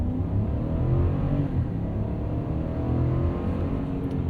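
A 2023 GMC Sierra 1500 AT4X with its 6.2 V8 pulls away from a complete stop, a steady low rumble of engine and road noise heard from inside the cab.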